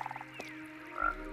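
A frog croaks in Minecraft, a short burst of low game croaks standing alone with no speech, a soft click partway through and a louder croak near the end.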